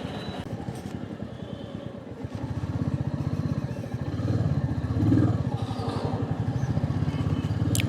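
A motorbike rides past a bus stand on a weekend road trip, its engine a steady, close putter that grows louder and rougher partway through, with faint road noise around it.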